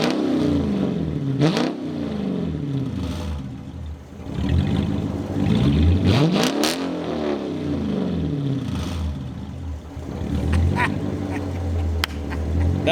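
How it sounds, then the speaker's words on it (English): Hemi-swapped 1965 Dodge Monaco engine revving in several loud bursts, each rising and falling in pitch over a steady idle, close to the car with no talk. "We gotta rev it."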